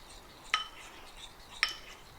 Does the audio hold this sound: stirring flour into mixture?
yes